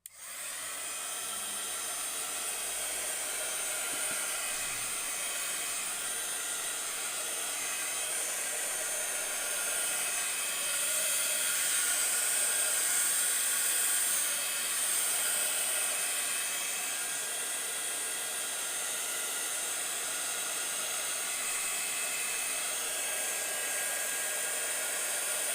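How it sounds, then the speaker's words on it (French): A heat gun drying craft work for a handmade book, producing a steady, loud, hissing blower roar that runs continuously and alone throughout. "Je vais utiliser le heat gun."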